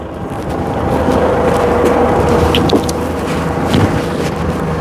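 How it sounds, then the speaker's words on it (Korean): Used forklift engine idling steadily, a loud, even, continuous rumble with a constant hum throughout and no changes in speed. "엔진 소리를 확인하고 엔진 소리가 일정하게 계속 난다면"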